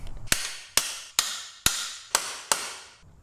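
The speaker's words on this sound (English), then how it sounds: "Now we can take our hammer and tap it back in." Six sharp metallic hammer taps, evenly spaced and close, each ringing briefly before the next strike, tapping a part into place while installing rear sets on a Yamaha MT-09 motorcycle.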